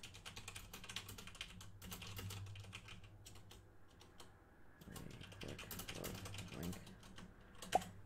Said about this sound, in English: Let me just type something quick.